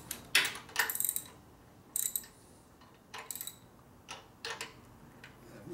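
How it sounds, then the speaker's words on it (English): Ratchet wrench tightening the handlebar risers on a 1958 Harley-Davidson 74ci panhead during a top-end rebuild, several short crisp clicking bursts with pauses between, close and clear in a quiet shop. "now we can go ahead and attempt to tighten the risers down."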